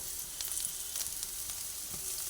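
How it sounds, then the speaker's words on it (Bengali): Onions frying with turmeric and salt in a pan, a dense, even close sizzle with faint crackles throughout, no talking. "নুনটা দিয়েও একই সঙ্গে সব ভেজে নিচ্ছি আস্তে আস্তে পেঁয়াজ নরম হয়ে আসছে"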